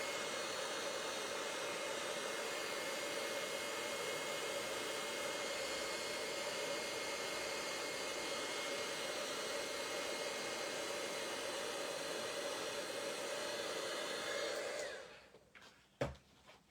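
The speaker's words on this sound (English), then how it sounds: "Just heating it up. It's taking a while." Heat tool warming card-making craft work, giving a loud steady close blowing roar with a fan hum that runs unbroken for about fifteen seconds, then cuts off and is followed by a sharp knock.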